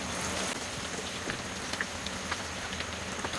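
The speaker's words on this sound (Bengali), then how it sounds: "এইগুলাকে আমি এখন ভেজে নিব এর মধ্যে দিয়ে।" Chicken drumsticks frying in hot oil on a stovetop, a steady dense crackle and patter of bubbling oil with occasional sharper pops, fairly quiet and close.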